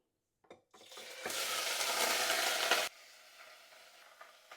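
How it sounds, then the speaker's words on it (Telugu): Pieces of cleaned country chicken dropped into a pan of hot oil: after a few soft knocks, a loud, bright hissing sizzle erupts close up, holds for about two seconds, then cuts to a quieter, steady crackle. "ఇప్పుడు మనం నీట్గా క్లీన్ చేసుకున్న నాటుకోడి ముక్కలు అయితే వేసేసుకుందామండి"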